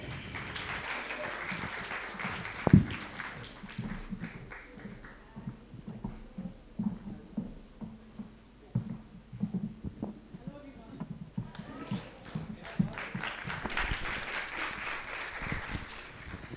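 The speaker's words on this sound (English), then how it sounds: "let's put a huge round of applause for Meenakshi Dixit" Audience applause greets actress Meenakshi Dixit as she comes on at a talk show, a broad wash of clapping that rises, thins, and swells again toward the end, with a low steady hum beneath.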